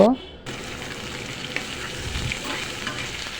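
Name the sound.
green bananas frying in oil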